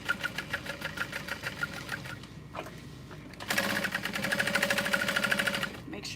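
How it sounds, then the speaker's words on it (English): Sewing machine basting backpack strap connectors in place around the outside edge, stitching in rapid steady rhythm with a brief pause before a louder, faster final run. "And then we're just gonna baste everything in place"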